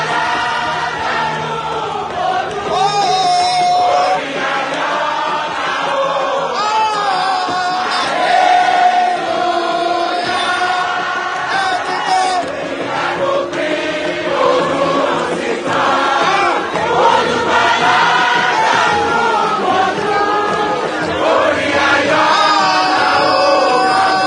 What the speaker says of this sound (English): the crowd's pure joy is palpable, with people singing, dancing in honor of the governor's re-election